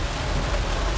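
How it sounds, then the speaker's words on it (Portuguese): Heavy rain during a rainy northeastern Brazilian winter day in Maragogi, Alagoas: a dense, steady roar of downpour, loud and unbroken, as if drumming on a vehicle. "tá chovendo demais"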